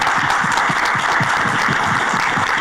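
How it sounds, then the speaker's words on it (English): Steady, dense applause from a summit audience filling the room after a panel, continuous and fairly loud throughout. "Let's give them a round of applause."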